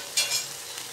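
Carrots tossed into a hot frying pan and stirred, giving a bright sizzle with a couple of quick scraping bursts near the start, close and fairly quiet.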